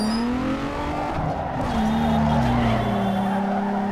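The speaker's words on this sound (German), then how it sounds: "Hört sich schon ein bisschen an wie ein Supra." A revving 230 hp naturally aspirated sports car engine in Need for Speed Underground 2, sounding like a Supra, its pitch climbing and dipping as it accelerates, with a tire squeal mixed in; loud and close with no talking.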